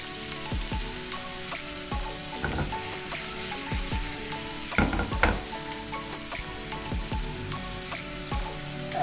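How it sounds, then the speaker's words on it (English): Butter melts in a hot pan before garlic and prawns go in, giving a steady, close crackling sizzle with scattered pops and a brief louder burst. "As your butter is melting"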